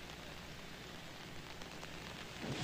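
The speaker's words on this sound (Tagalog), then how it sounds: "halos 7 oras ngang walang humpay ang pag-ulan dito sa Quezon City" Heavy rain in Quezon City during a long overnight downpour with lightning, a faint, steady hiss of falling water with no voices.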